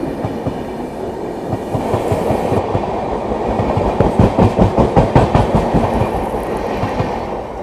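A Barauni–New Delhi clone Humsafar Express train passes on the adjacent track, a loud, steady rush of wheels with rhythmic clickety-clack beats that grow stronger and more distinct toward the end, heard from inside a moving train.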